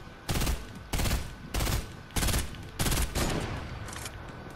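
Rifle gunfire in the Fortnite video game, fired in six or seven loud, evenly spaced bursts of rapid shots, each lasting about half a second, with no voices over them.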